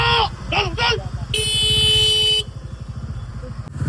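Heavy road traffic jams the route toward Mumbai near Mangaon. Several loud vehicle horns honk in bursts, one held for about a second, over a constant rumble of idling engines close by.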